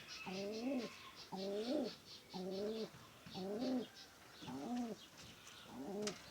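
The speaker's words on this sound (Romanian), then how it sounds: "Porumbei." Pigeons cooing in a steady series of six soft, rolling phrases, close by, with faint chirps high in the background.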